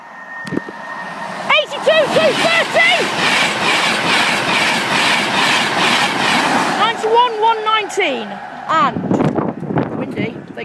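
A Class 91 electric train passes a level crossing, loud and close, with a rushing roar and rhythmic clatter of wheels over rail joints, flanked by the crossing alarm's warbling tones. People talk nearby.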